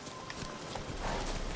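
Hooves of Roach, the horse in The Witcher 3, clatter in a steady clip-clop gallop across a continuous, moderately loud bed of game ambience, with no speech over them.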